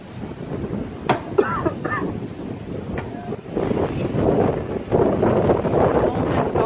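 Strong wind buffets the microphone at Zion National Park in Utah, a broad, steady roar that swells louder in the second half, with brief bursts of talk early on.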